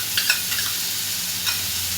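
Yogurt going into a pan of frying masala over a low flame, giving a soft steady sizzle with a few brief scraping stirs, close and fairly quiet, no voices.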